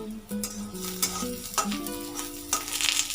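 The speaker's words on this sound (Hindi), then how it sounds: "पियाज को आमे गोल्डन हेबा पर्यंत भाजीबा" Chopped onions frying in a pan, a steady close sizzle with stirring scrapes and tonal clinks of the utensil against the pan throughout.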